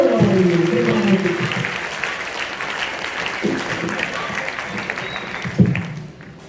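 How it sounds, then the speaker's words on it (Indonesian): Audience applause fills a hall at a rupiah awareness outreach event: steady, dense clapping from many hands that starts loud and then holds a continuous wash, with a voice briefly audible near the start. "kasih tepuk tangan lagi dong untuk kita semua ini"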